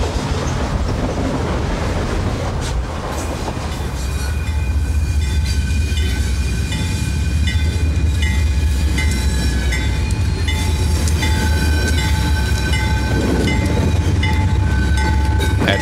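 The CSX Tropicana Juice Train rolls by in Florida in 1997, a loud, sustained rumble of wheels with steady clickety-clack and faint squealing tones throughout.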